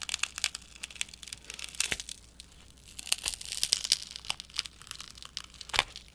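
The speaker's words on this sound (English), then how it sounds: "I'll remove the black tape protecting the inner screen side of the hinge." Black protective tape peels off the inner screen side of a Samsung Galaxy Z Flip hinge during a teardown, giving close, continuous crinkly tearing and crackling with sharper snaps scattered through.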